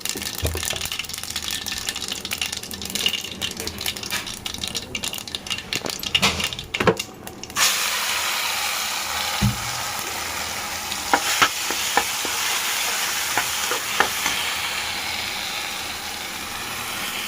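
Mustard seeds frying in hot oil in a home kitchen, a continuous crackling sizzle with sharp popping spatters and occasional clinks of a utensil against the pan.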